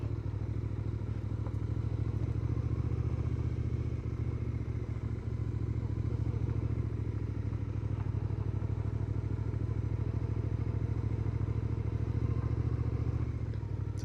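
Motorcycle fitted with a PUIG touring windscreen riding steadily, with a constant loud low engine drone and wind rush running throughout, no talking.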